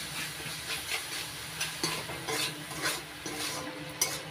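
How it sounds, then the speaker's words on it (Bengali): Spices with red chilli powder and salt fry in oil while being stirred for a soya-stuffed pointed gourd dorma. A quiet, hissing sizzle runs under repeated soft scraping strokes of a spoon in the pan. "এবার সব মশলাগুলো ভালো করে কষিয়ে নিচ্ছি"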